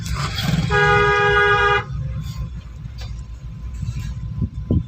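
A single car horn blast of about a second sounds over background traffic rumble, followed by continued road noise.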